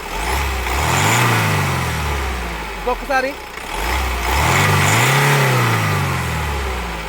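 A 2014 Honda Mobilio V engine revs up and settles back twice, each surge rising then falling, with a brief spoken word in between.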